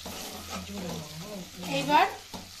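Chili chicken with ginger being stirred as it fries in a pan: soft sizzling and scraping swell near the end, while a voice talks over the cooking.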